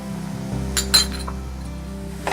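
A metal spoon clinks against a pot or bowl as coriander powder goes into a potato fry, a couple of bright close taps over a low steady cooking hum.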